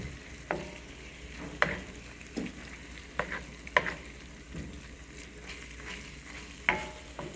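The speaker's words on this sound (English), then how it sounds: "I'm gonna get some more flour, add to the meat, stir it really good before we start to add in our milk" Sausage meat and flour being stirred in a hot pan for breakfast gravy, with a steady low sizzle under repeated scraping spoon strokes against the pan bottom, close and moderately quiet.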